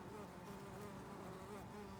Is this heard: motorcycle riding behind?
no